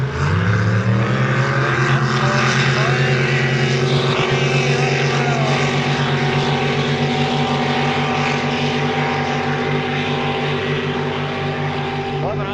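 Racing motorboats at a harbour boat race roar loudly and steadily down the course, their engine drone rising slightly in pitch and holding throughout.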